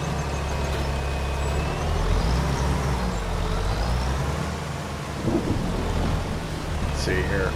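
Steady rain and rolling thunder in the farming game Farming Simulator 25, a continuous broadband downpour with a deep low rumble throughout and a couple of brief brighter swells, with no talking.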